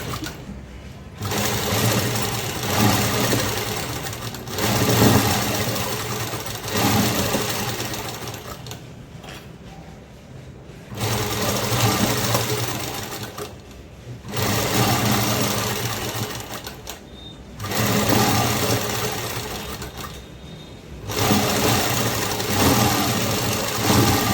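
A sewing machine stitches sleeves onto a garment in several loud, steady runs of motor whir, separated by short pauses where the fabric is repositioned.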